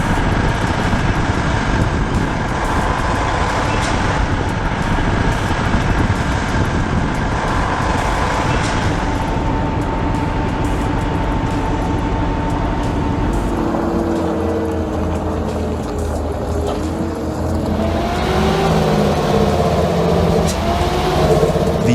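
An MB Trac vehicle drives over rough terrain, its engine a steady, loud drone that holds without a break for the whole stretch. The tone of the engine shifts partway through.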